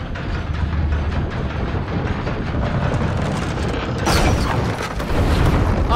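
A cannon fires in Rise of the Tomb Raider: mechanical clanking and ratcheting build up, then a loud boom lands near the end.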